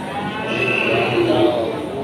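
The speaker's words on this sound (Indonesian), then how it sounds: "Sapi-sapi bagus, sapi limusin, sapi super ini" Limousin cattle at a busy livestock market in Aceh, with a steady wash of crowd murmur and voices and a brief low animal call rising midway.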